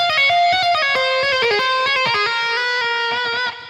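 Electric guitar plays a rapid tapped phrase from a guitar solo, with quick, bright, even notes flowing in a fast run, close and clear with no talk, fading at the end.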